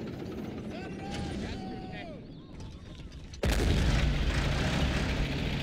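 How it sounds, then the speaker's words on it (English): Tank shell striking a building in a World War II strategy game, a sudden loud crashing impact that cuts in abruptly after a stretch of quieter battle noise and unit voices. "That shell went through the building or something."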